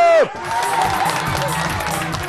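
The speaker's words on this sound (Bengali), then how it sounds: "একটা হাততালি" Live audience at a Bengali New Year comedy show cheering and clapping loudly, a steady crowd roar lasting the whole moment, following a brief tone at the start.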